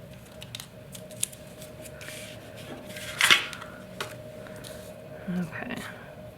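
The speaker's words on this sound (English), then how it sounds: "I got out my little sharp scissors" Small sharp scissors snip through a photo in a few quiet, crisp cuts, one sharper click standing out midway, with soft rustling between.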